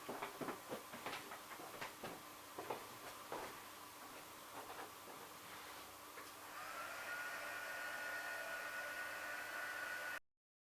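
A dryer runs over a gold foil craft project. A few handling clicks and taps come first, then a steady, close whooshing hum builds and holds for several seconds before cutting off abruptly.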